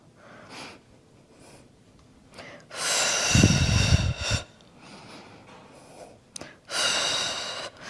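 Heavy rhythmic breathing during a Pilates reformer workout: forceful breathy exhales and inhales come in two long loud bursts separated by quieter breaths, with no talking.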